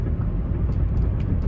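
Inside a 2000 Lexus ES300 driving along, a steady low rumbling wind and road noise fills the cabin, constant and fairly loud with no voices.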